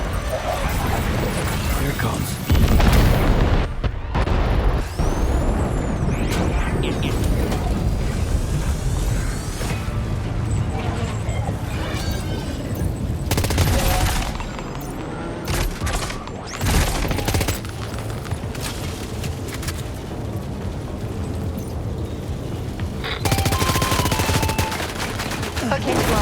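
Dense bursts of automatic gunfire and heavy booms from a battle in the PS5 video game Death Stranding 2 fill the scene almost without pause, with brief drops between volleys and voices mixed into the combat.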